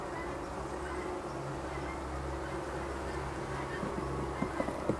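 Honey bees hum steadily at an open hive, a dense, continuous near buzz with a few soft knocks toward the end.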